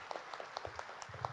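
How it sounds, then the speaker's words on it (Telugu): Scattered claps from an audience at a meditation gathering, a brief light patter of separate hand claps rather than full sustained applause. "మరి వారికి అందరం గట్టిగా చప్పట్లు కొడతాం మనం"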